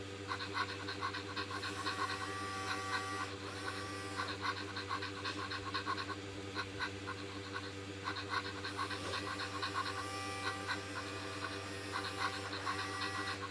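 A Rocket the Wonder Pup robot dog toy's motors whir steadily with a continuous mechanical hum and high tonal whine, close and moderately loud, with small rattling and scraping textures throughout.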